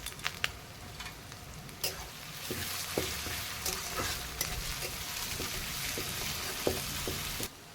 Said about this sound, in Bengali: পেঁয়াজ কুচিটা দেওয়ার পরে আমি এরপরে এই শুকনো লঙ্কাগুলো দিয়ে দিলাম